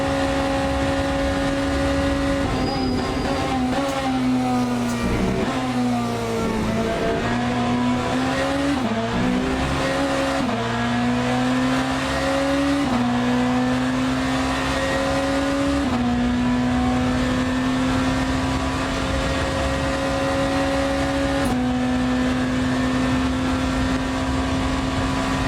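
A hypercar lapping the Le Mans circuit in Le Mans Ultimate, engine droning loud and steady with pitch dipping under braking and rising on throttle, tyres squealing through corners, with no talk.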